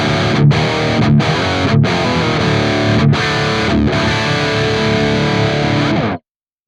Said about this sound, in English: the Rust amplifier, and this is going to be ideal for aggressive, crunchy rhythm sounds of medium to high gain